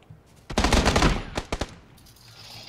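A burst of automatic gunfire rings out in the video game PlayerUnknown's Battlegrounds. A quick volley lasts about a second, followed by a few separate shots, then quiet.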